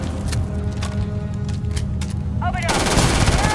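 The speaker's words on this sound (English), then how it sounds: "Of course, because I'm shooting, you're not." Video game gunfire comes as rapid automatic bursts and single shots, loud and close, over a steady background of combat noise and a short whooshing sweep.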